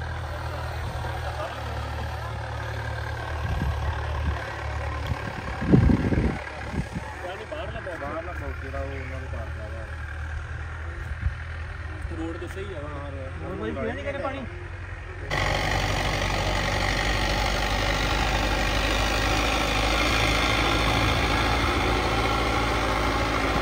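An imported, modified 90 hp tractor engine idles with a steady low throb throughout, growing louder and fuller in the second half, while people talk nearby.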